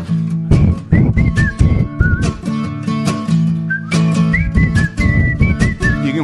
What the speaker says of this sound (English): here comes the whistle solo